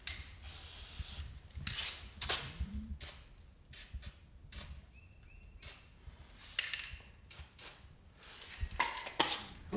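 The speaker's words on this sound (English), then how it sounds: "you'd want to spray inside the bearing here" Short hissing spray bursts of lubricant on garage door roller bearings, repeated at irregular intervals, close and fairly quiet, with some light rubbing and handling noise between them.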